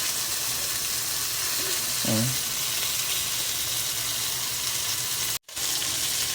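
Native chicken for tinola fries in its own rendered fat with a steady, hissing sizzle, a short voice murmurs partway through, and the sound cuts out briefly near the end.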